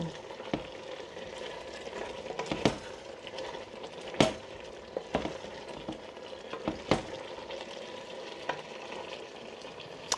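Bistek, a Filipino beef dish, is stirred with butter in a pan over a steady sizzle, with sharp utensil scrapes and clinks against the pan at irregular intervals.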